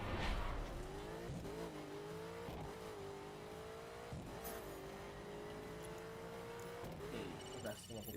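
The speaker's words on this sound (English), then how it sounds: "That was Herschel's car." A car engine drones steadily with shifting revs and a tire squeal near the start, driving sound from the video game The Crew, continuous throughout, no talking.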